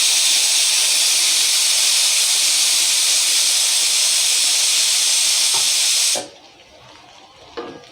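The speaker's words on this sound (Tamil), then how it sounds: "மூணு விசில் வந்துருச்சுங்க." A pressure cooker of Kerala-style mutton gravy releases steam in a loud, sustained hissing whistle for about six seconds, then cuts off abruptly, leaving faint kitchen clatter.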